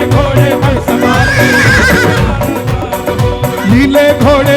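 Horse whinny effect set within a loud Hindi devotional bhajan for Khatu Shyam on his blue horse, rising tones blending into dense, steady music throughout.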